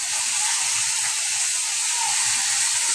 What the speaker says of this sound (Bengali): মাছের মাথাগুলো দিয়ে দিয়েছি